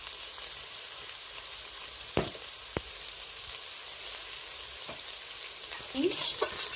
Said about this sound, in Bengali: দিয়ে ভালো করে লালচে করে ভেজে নেব সয়াবিনটা